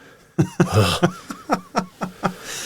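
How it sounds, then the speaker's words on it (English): A harsh, hacking cough bursts out in a rapid series of about eight wet, throaty hacks, loud and close, one after another over a couple of seconds with no talk around it. "your disgusting hacking cough that you can't seem to cover with your elbow"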